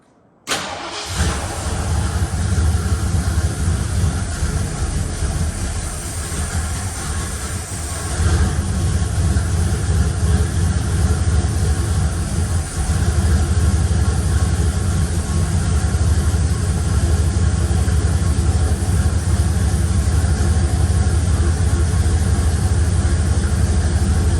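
A 1967 Ford F100 Bumpside engine, its carburetor bowls just filled, cranks and catches, then runs at a loud, steady, rough idle up close, continuing alone with a slight change in pitch partway through.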